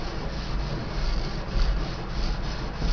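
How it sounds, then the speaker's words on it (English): Steady close scraping of metal grill grates on a barbecue before grilling pork shoulder, a continuous rough rasping rub with rhythmic strokes, fairly loud and alone. "it's always a good idea to clean the grill grates. Just scrape them off real good"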